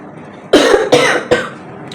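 Three loud, close coughs in quick succession from a person with a cold, each a short harsh burst separated by brief pauses.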